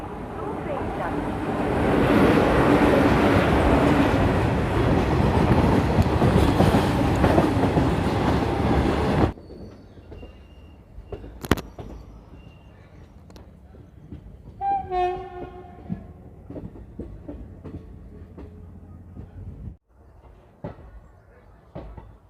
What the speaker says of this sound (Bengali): আমাদের ট্রেন চলে এসছে তার নির্ধারিত সময় থেকে কুড়ি মিনিটের দেরিতে